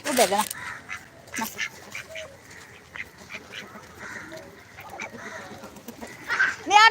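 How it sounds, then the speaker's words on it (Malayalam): Indian Runner ducks quack loudly at the start and again at the end, with a few scattered calls and some talking in between. "അത് നമ്മളെ ഇന്ത്യൻ റണ്ണർ ഡക്ക്"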